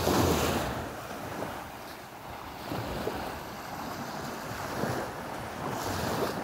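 Ocean waves wash onto a Bahamas beach, a broad steady roar with slow swells under constant wind buffeting the microphone.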